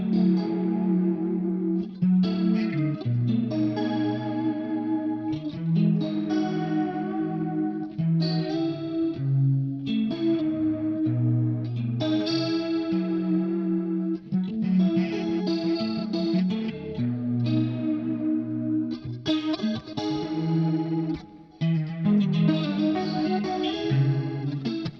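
Electric guitar run through an Axe FX 3 pitch detune effect, a thick chorused shimmer over sustained chords and riffs played continuously and loud with slight echo.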